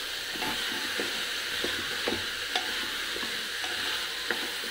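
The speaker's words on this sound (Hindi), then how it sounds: "अब हम इसे अच्छे से हिला लेंगे ताकि ये अच्छे से फ्राई हो जाए।" Potatoes and onions sizzle steadily in a pressure cooker while a spoon stirs them, giving repeated soft scraping knocks over the continuous frying hiss, fairly quiet and close.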